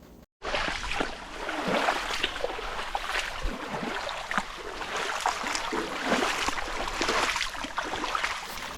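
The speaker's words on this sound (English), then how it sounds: "The sound of the rushing water, breeze, and the chirping of birds create a natural harmony" A waterfall inside a cave in Bali pours in a constant, loud rush of broadband water noise that holds evenly for several seconds.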